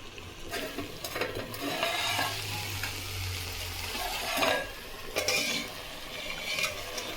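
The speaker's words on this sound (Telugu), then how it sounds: "నేనైతే బెండకాయ ఫ్రై చేస్తున్నాను" Okra fries in a hot pan with a soft, continuous sizzle. A utensil stirs it in intermittent scraping and clinking strokes, quiet and close.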